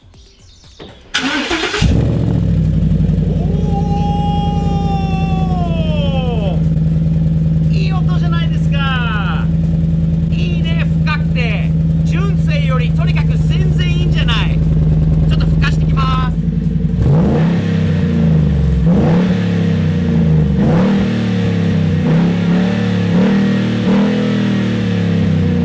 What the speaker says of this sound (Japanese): エンジンかけようか。 さてどういう音でしょう。